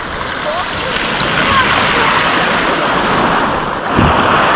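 Steady surf of small waves rushing and washing over a Black Sea pebble beach at Lazarevskoye in the morning, with a louder wave breaking near the end and wind noise throughout.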